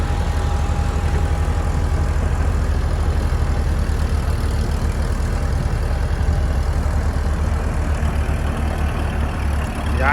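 A heavy tractor engine runs steadily close by, a deep continuous rumble that holds the same level throughout with no clear revs.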